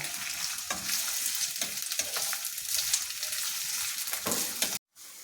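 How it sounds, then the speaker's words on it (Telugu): Ginger pieces frying in plenty of oil give a loud, continuous close sizzle with occasional stirring scrapes, ending in a sudden brief cutoff, and no one speaks. "ఈ అల్లం ముక్కలు అన్నీ వేగాలి బాగా. మన నూనెలో వేయించాలి బాగా."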